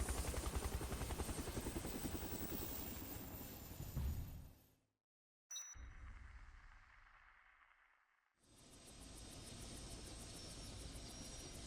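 Helicopter arriving at a helipad in the game Dead Rising: a loud, steady rotor-and-engine drone that cuts off briefly twice, then returns just as strong, with no speech over it.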